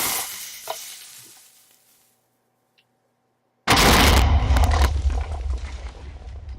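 A Minecraft TNT cannon firing: a low fizzing hiss fades into near silence, then a sudden loud explosive blast erupts and rumbles on for a few seconds.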